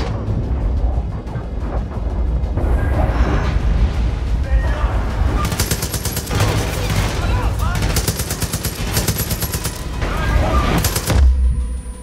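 Gunfire and explosion bursts in the Far Cry 5 shooter game, loud and dense throughout with crackling blasts and rapid shots, a sharp boom near the end, a voice speaking underneath.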